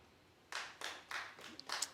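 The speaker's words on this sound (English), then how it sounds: "Clap if you think Lennox would win." A studio audience claps in short bursts during a talk show, voting for Lennox in a Mike versus Lennox matchup. The sound starts suddenly after a quiet moment and comes back in several rough waves of moderate loudness.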